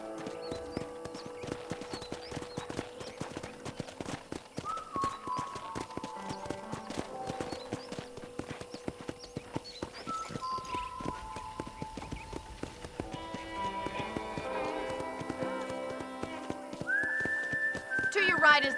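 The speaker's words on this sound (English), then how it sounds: "I picked out a fine horse for you." Steady clip-clop of horse hooves at a walking pace in the video game Red Dead Redemption, close by, with a person talking over the rhythmic steps and a brief whistle near the end.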